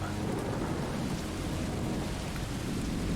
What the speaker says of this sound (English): There's a lightning storm now.